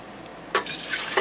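Warm water splashes from a tap into a bowl in short bursts, close and bright, with a brief pause between pours and no talking.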